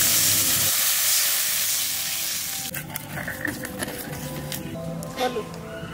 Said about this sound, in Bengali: ওই তেলের মধ্যে আমি জল দিয়ে দেবো